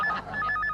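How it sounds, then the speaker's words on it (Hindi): A landline telephone rings with a loud, close electronic trill repeating in quick bursts, heard alone in an indoor comedy scene. "फोन।"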